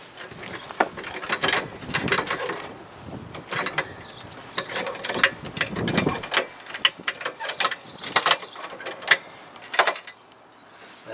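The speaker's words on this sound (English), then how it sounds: "I'm gonna start jacking it up." A jack ratchets and clicks as it lifts a Chevy Equinox for a tire rotation, with irregular metallic cranking and creaking strokes, close and moderately loud.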